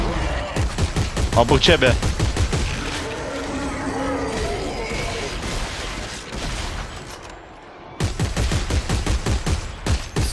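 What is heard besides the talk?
gunfire from the video game Dead Space 3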